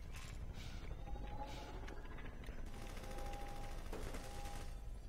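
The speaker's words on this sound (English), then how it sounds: "He just shot that bottle." Gunfire in Half-Life 2 as shots ring out toward a bottle, several sharp cracks spread over a few seconds amid rattling mechanical game noise, with no speech.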